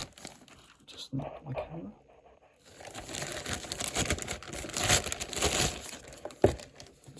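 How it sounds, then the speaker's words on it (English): Cellophane wrap crinkles and tears loudly as it is pulled off a Festina F20426 watch box, close and busy for several seconds, after a short spoken remark. "Get rid of the cellophane here."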